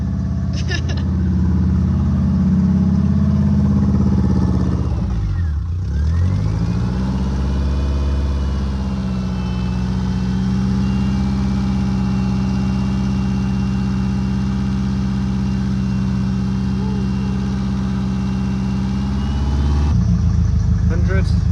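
A van engine turns over and settles into a steady idle, humming continuously before cutting out near the end, with occasional voices over it.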